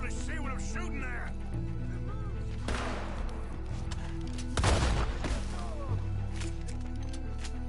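Gunfire and booms from a firefight in Red Dead Redemption 2, with a few heavy bursts rising over a constant game soundtrack and a character's voice.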